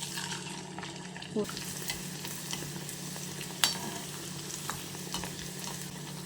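Fasting-style farali puri sizzles steadily after dropping into hot oil, a dense, continuous crackle of frying with a small splash-like bump early on and no voices.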